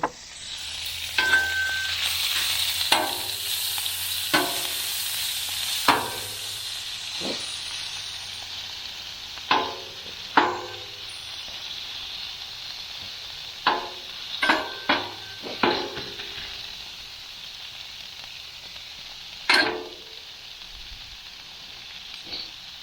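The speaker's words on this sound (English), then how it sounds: "Throw the butter down. Throw the steak on top of that." Steak sizzling in butter on a 22-inch Blackstone griddle, a steady close hiss that fades gradually, broken by scattered crackles and pops.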